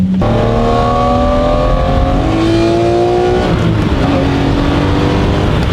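A Mercedes car engine revs hard and loud up close, the pitch climbing in repeated surges before dropping back, with no talking over it.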